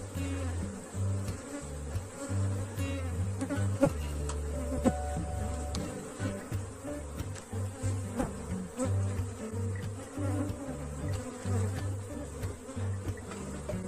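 Africanized honey bees swarm around an opened hive, a dense, continuous droning buzz with wingbeats swelling and fading as individual bees pass close by.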